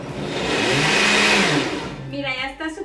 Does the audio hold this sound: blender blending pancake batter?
yes